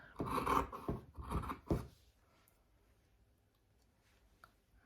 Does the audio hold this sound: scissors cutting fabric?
yes